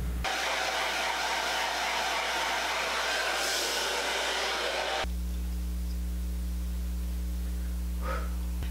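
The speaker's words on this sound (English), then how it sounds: "So my hair is all prepped now to be blown dry" A hair dryer blows hair dry close by with a loud, steady rushing whoosh, then shifts to a lower, humming setting partway through, running continuously throughout.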